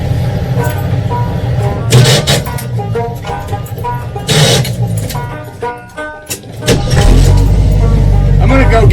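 A 1983 Jeep CJ7 engine idles steadily in snowy weather to defrost the windshield, a loud continuous low rumble with fan noise and handling sounds.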